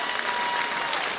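Dense, even applause from a convention audience fills the space, a continuous loud patter of many hands clapping with no pauses.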